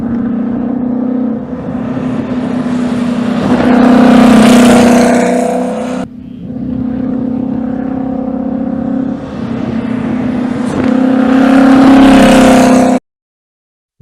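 Rolls-Royce Boat Tail with a turbocharged V12 accelerating hard, a loud close engine roar rising in two long pulls, with a brief break between them and no talk.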